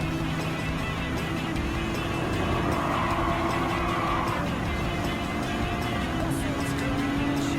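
BMW M2 Competition race car engine in Gran Turismo 7 at Road Atlanta, a steady droning exhaust note with a rising tone midway, held under continuous game audio and faint commentary.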